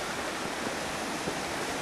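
River water rushing under an old Roman stone bridge, a steady, dense outdoor roar with no pauses, close and loud.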